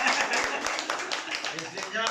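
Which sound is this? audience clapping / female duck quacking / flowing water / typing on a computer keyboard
audience clapping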